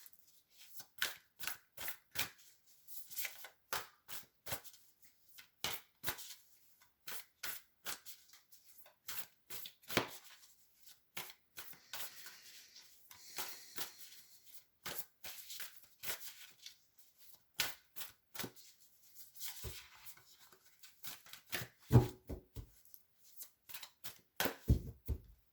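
A deck of tarot cards is shuffled by hand over and over, its quiet riffles and slaps coming in irregular close bursts with short pauses between them.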